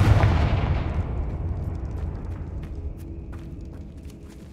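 A Confringo blast spell in Hogwarts Legacy bursts with a loud, deep boom that rumbles and slowly fades over several seconds, followed by faint scattered debris clicks, with no talk.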